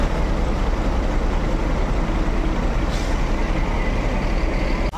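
A heavy ANS bus engine rumbles steadily and loudly at close range as it pulls away, with a brief hiss near the end.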